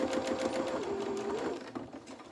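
A domestic sewing machine running a short quarter-inch seam while sewing small boxer shorts for a toy rabbit, a fast steady mechanical whir that rises slightly in pitch, heard up close without talk.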